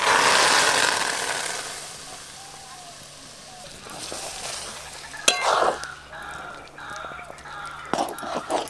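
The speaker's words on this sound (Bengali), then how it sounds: "সেদ্ধ করে রাখা আলু সাবুর সঙ্গে খুব ভালো করে মিশিয়ে নেব।" Boiled potato mashed together with strained sago in a pan for potato papad, heard as soft squelching and scraping strokes, sparse at first and then louder and more frequent, with a few sharper knocks over a faint background hiss.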